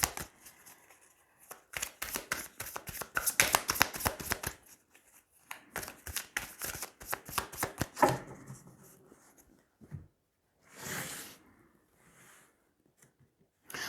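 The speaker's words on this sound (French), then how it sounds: "Allez, on va tirer 3 cartes." Tarot cards are shuffled in several quick rattling bursts of riffling, then single cards are drawn and laid down with soft slaps and slides, close and fairly quiet, with pauses between.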